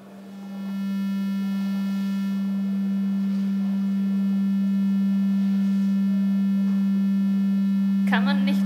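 Modelled 50 Hz power-grid tone with an exaggerated 40 mHz frequency wobble, a loud steady low hum with faint harmonics holding throughout, ending in a brief chirping burst.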